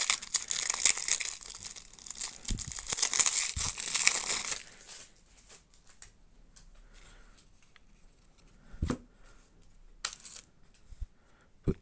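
An envelope from a Magic: The Gathering commander deck is opened, with close crinkling and tearing of paper for several seconds, then quiet handling and a few soft taps and rustles.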